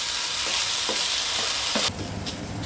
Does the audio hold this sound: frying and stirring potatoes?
yes